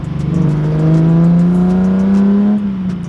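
Datsun car engine revving hard as it accelerates on the way to a car meet: a loud, close droning roar that climbs steadily in pitch, then eases off briefly as if shifting gear, with no talking.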